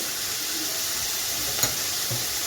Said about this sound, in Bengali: এখন অনবরত নেড়ে চেড়ে আমি ফুলটাকে ভেজে নেব, যাতে জলের তলায় লেগে না যায়।